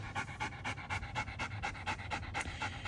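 A German shepherd pants hard after running in hot weather, rapid rhythmic breaths close to the listener, steady and loud throughout with no speech.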